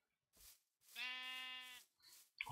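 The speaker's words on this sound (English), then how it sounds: "Sheep! Ooh, black sheep." A sheep, a black sheep in a survival video game, bleating up close: a short call, then a long wavering bleat, then another brief one, loud and clear against silence.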